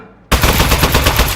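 An Aperture Science Turret firing in the video game Aperture Desk Job: after a brief quiet moment, a loud, continuous burst of rapid machine-gun fire.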